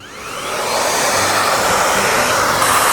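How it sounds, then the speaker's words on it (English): A hair dryer in a Tokyo hotel room whirs up and runs with a loud, steady airy roar close by, building over the first second then holding constant. "Now this is a fancy hair dryer."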